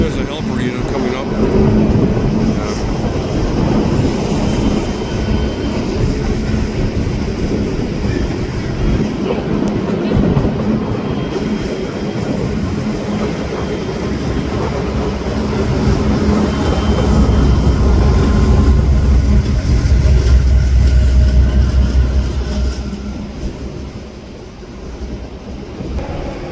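A CPKC empty coal freight train with a helper locomotive rumbles past close by at a crossing near Sapperton station, a loud steady rolling clatter with a deep locomotive engine drone swelling toward the end.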